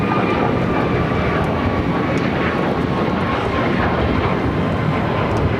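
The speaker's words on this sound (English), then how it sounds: "Speaking of Copa, that is our next takeoff." A Copa Airlines Boeing 737 MAX 9 takes off at Los Angeles International Airport, its engines a loud, continuous roaring rumble with a faint high whine that holds steady throughout.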